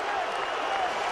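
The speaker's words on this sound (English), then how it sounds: "but the crowd into it big time now." A basketball arena crowd at a Tennessee versus Vanderbilt game roars and applauds, a dense, loud wash of cheering and clapping heard under a commentator's voice.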